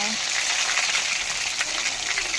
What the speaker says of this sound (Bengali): পনির কটা আমি ভেজে নেব, হালকা হালকা করে ভেজে নেব।